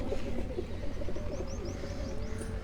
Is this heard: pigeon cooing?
yes